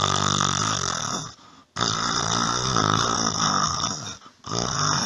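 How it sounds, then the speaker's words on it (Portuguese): A person napping on a bus snores loudly in long, rasping stretches, broken by one short pause in the middle and a brief dip near the end, with no talking. "um deles está roncando assim"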